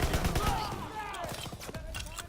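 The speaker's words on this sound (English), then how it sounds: "Whoa, where are y'all shooting?" Gunfire in the World War II shooter game Call of Duty WWII, a clatter of rapid shots and bursts under a player's talk, with battle noise filling the background.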